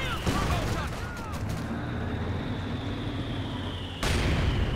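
Tank gunfire in a World War II strategy game comes as a heavy boom at the start and another near the end, with a battle rumble between them and commentators talking over it.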